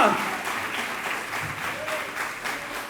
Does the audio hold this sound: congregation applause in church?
yes